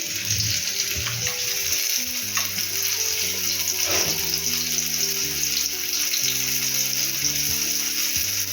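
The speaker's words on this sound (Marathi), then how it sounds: "एका वेळेला किती तुकड्या ठेवणार आहेत फ्राय करायला?" Bombil (Bombay duck) fish pieces frying on a large hot tawa, a steady dense sizzle and crackle running continuously throughout at close range, with low tonal background hum underneath.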